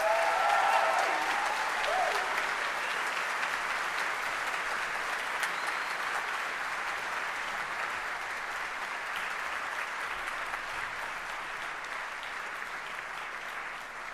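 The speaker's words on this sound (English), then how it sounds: "Please give them all a well-deserved round of applause." An audience gives a round of applause at the reveal of a student exoskeleton project, dense steady clapping that starts strong and slowly tapers slightly over its length, with a brief voice at the start.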